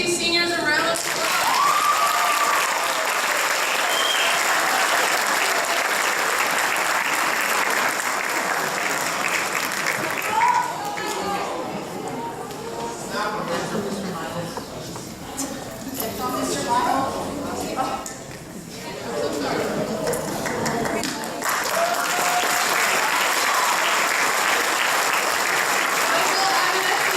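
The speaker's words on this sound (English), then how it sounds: "Let's give these seniors a round of applause." Applause for seniors at a high school awards ceremony, long and continuous clapping from the audience that dips in the middle with some shuffling and murmuring voices, then swells back to full strength.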